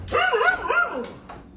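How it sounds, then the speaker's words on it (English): A dog barks frantically at close range, a quick burst of sharp, yelping barks followed by a short whimpering cry. "Even the dog barked frantically, not understanding what was going on."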